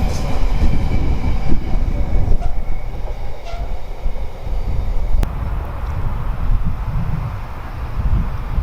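A train rumbles past Kenilworth Junction heading south toward Leamington, loud and close. The heavy, steady roar runs throughout with faint rail clatter and a brief sharp click near the middle.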